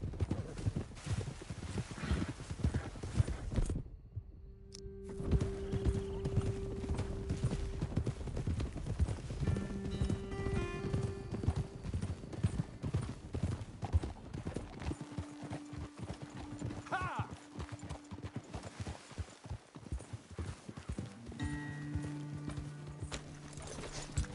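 Horse hooves clip-clop steadily in a video game as riders travel up a trail, a continuous close rhythm of hoofbeats with brief pauses and faint tonal game sounds in the background.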